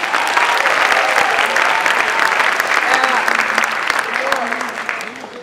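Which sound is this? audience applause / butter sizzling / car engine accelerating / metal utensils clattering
audience applause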